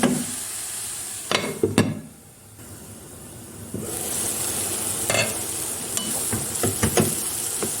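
Leeks softening in oil in a covered pan being stirred, loud clattering bursts as the lid and utensil knock, a brief lull, then a steady sizzle with scraping stirs and knocks.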